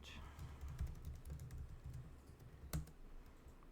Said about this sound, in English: If I can type my password right.